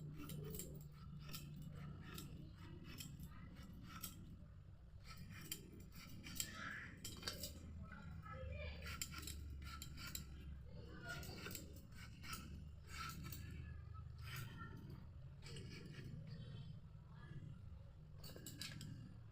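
Knife cutting fresh tomatoes on a board, a long run of quiet, evenly repeated chopping taps over low background hum.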